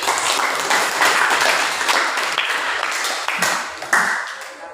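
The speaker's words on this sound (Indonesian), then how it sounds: "Aplaus dulu." Students applaud together in a classroom after a group presentation, a dense, loud, continuous wash of clapping that runs throughout with a few sharper individual claps standing out near the end.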